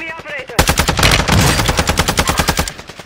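Rapid automatic gunfire from a Call of Duty match on Ashika Island, loud and close, a steady stream of sharp bursts running for several seconds after a short quiet lead-in.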